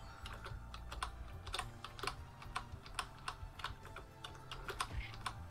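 Keys on a computer keyboard, including the spacebar, click faintly in an irregular stream of quick taps while Monster Boy and the Cursed Kingdom is played, with low game sounds humming underneath.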